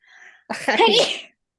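A single sharp human sneeze, close and loud, preceded by a faint intake of breath.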